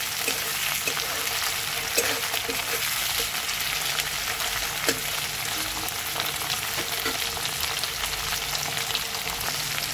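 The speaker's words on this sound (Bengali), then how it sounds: "টমেটোটাকে একটু ভেজে দেবো।" Tomato sizzling steadily in a pan of fried onions for a raw banana kofta curry, a constant bright crackle with a few soft knocks of stirring, close and alone with no talk.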